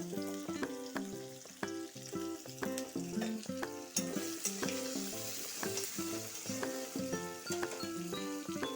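Spice paste sizzling in hot oil with fried onion, cumin and bay leaves, a continuous close crackling fry with rhythmic clinks and scrapes of a spoon stirring the pan throughout.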